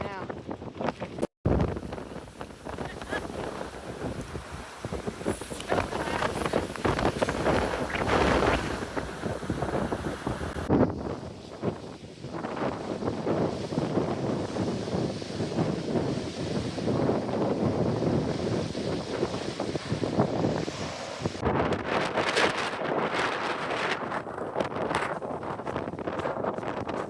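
Strong gusts roar across a hiking trail in Torres del Paine, buffeting the microphone with a loud, continuous rush that swells and eases without a break for the whole stretch.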